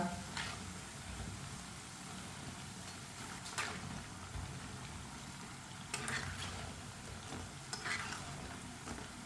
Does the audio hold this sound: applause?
no